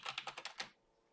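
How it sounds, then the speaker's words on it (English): Rapid keystrokes on a computer keyboard during a live gold trading session, about six quick clicky taps in a burst, close and clear, then a pause with one faint tap at the end. "I'm typing faster than my computer"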